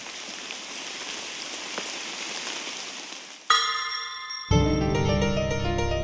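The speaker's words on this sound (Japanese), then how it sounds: "実際の心地よい雨の音など、睡眠、集中、リラックスしたい時のお供に使用できます。" Soothing real rain falls as a steady close patter for about three seconds, then gives way to chiming music.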